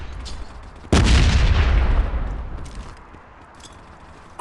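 A grenade going off in the shooter Modern Ops, one sudden heavy blast that rolls and decays over a couple of seconds, followed by faint scattered clicks.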